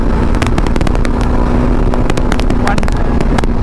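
A new 2024 Yezdi Adventure motorcycle cruising in fourth gear produces a loud, close, unbroken engine drone mixed with heavy wind rush, holding steady throughout.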